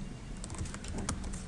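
Light typing on a computer keyboard, a run of quick soft clicks at an uneven rhythm, fairly quiet and close.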